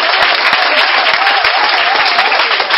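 A church congregation applauding to acclaim Jesus, a dense, continuous wash of many hands clapping, loud and steady throughout with a few sharper individual claps standing out.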